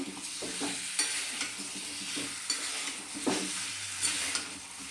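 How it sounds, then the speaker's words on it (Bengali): Jackfruit kalia with fried potatoes is stirred in a pan: a steady low sizzle with repeated scraping strokes of a spoon against the metal, fairly quiet and close, with no talking. "সমস্ত উপকরণ আমি ভালোভাবে মিশিয়ে নিচ্ছি"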